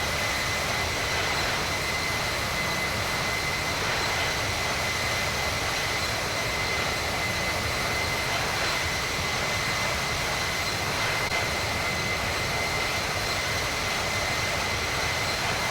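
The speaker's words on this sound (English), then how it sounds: "The engine sounds in general don't sound too bad in certain aircraft." Steady airliner engine drone in the Infinite Flight simulator during a cruise from Reno to Seattle, a continuous, even roar with a faint whine that holds level throughout without talk.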